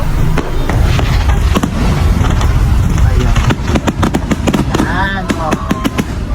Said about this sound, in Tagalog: At ayan na po yung finale ng ating fireworks display of attraction and affection.